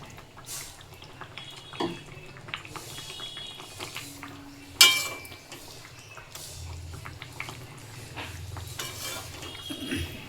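Bengali pabda fish curry bubbles and sizzles softly in a pan as raw mustard oil goes in, with scattered stirring clinks, light drips and one sharp metallic knock midway, all at a low, close level.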